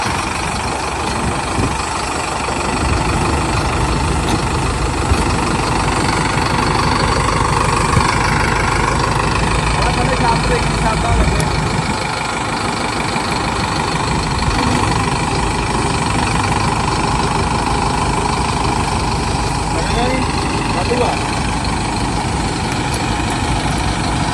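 A 4x4 tractor idles with a steady, close diesel drone and slight vibration, holding an even, unbroken rumble throughout with no voices.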